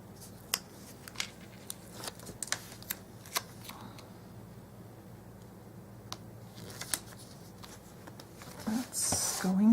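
Sticker from a planner kit is peeled and pressed onto a paper planner page, giving quiet, close crinkles, soft paper rustles and small sharp ticks scattered across the clip, with a louder rustle near the end.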